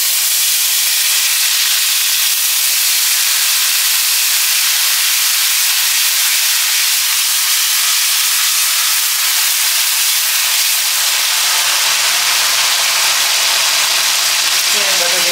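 Onion paste with whole dried chillies, whole garam masala, cumin seeds and turmeric hisses loudly and continuously in hot oil, a dense, close, steam-like sizzle that holds without pause.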